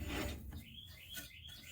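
A maple bowl lid turning on a wood lathe gets sanded, giving a close, continuous dry rasping rub with a couple of brief higher scraping squeaks.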